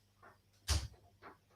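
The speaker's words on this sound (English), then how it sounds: "Close that door very well for me." A door is pushed shut once, giving a single short, fairly quiet thud with no one talking, set against a faint background hum.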